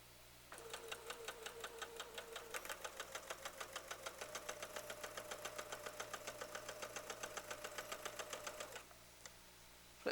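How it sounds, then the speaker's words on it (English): A sewing machine runs steadily as fabric pieces are chain sewn with quarter-inch seams, its rapid even needle ticking continuous for about eight seconds, fairly quiet and close, then stopping. "We're just going to chain sew pieces together so we don't have so much stopping and starting."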